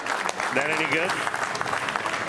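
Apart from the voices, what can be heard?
applause at a PBA bowling playoff match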